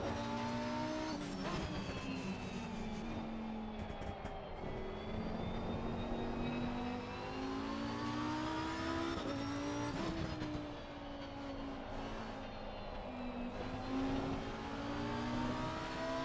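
A race car engine in a racing video game screams at high revs as the car is rotated with power oversteer. The pitch rises and falls through gear changes and throttle lifts, loud and continuous with no voices.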